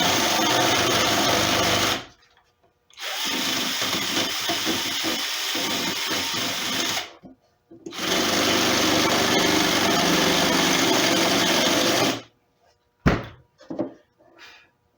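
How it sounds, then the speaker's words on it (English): Router cutting a channel in a plywood guitar body, a loud high whining roar in two long passes of about five seconds each with brief pauses, then a few short bumps and thuds. "hold it up like this, and route out that channel."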